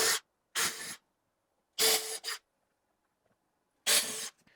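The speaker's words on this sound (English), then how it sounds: "Now I'm going to finish the pilot hole with a 1/8 inch drill bit." Short bursts of a drill with a 1/8 inch bit spinning into wood for a pilot hole, four quick runs with gaps between, close by and moderately loud.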